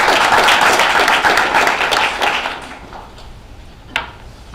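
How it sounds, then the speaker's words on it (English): A crowd applauds loudly as a speaker comes on stage at a startup pitch breakfast, dense clapping for about two and a half seconds that then fades to a few scattered claps and a single sharp knock. "Let's give Hugh a big round of applause"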